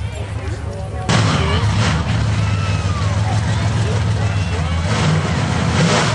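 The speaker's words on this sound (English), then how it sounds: "Greg Fiddler's gonna get us started here in the 69 Camaro" A 1969 Camaro at a burnout contest in Stockton roars as its engine revs hard, a steady loud, rough growl starting abruptly and holding, with someone talking over it and crowd noise around.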